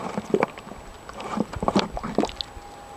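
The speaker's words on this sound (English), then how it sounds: "Yeah, that was bubbling away." Wet bubbling and soft gurgling pops from liquid plant feed fermenting in a barrel come in irregular clusters close by, with occasional drips and squishy liquid sounds.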